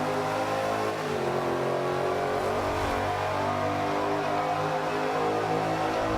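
Race car engine in Forza Motorsport 5 revving hard and holding throttle through a long turn, a loud, continuous high-pitched drone with no voices over it.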